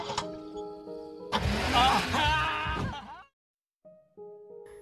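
A car engine in a film scene cranks and catches with a loud, rough burst of revving, then drops to silence before quieter tones return.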